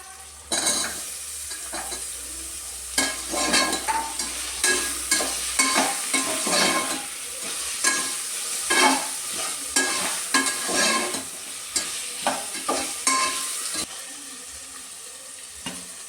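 Carrots stirred in a hot pan for rice bath, with a steady sizzle of frying under repeated scraping and stirring strokes of a spoon, close and fairly loud, with no talk.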